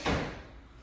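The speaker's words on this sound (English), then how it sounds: "close the door, please" A door closing in a home with a single solid thud, near and alone.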